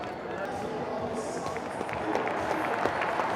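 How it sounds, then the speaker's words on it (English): A huge crowd at a soapbox race in Paris cheers and applauds in a dense, steady roar, with a commentator talking over it. "Cheered on by this huge crowd in Paris today."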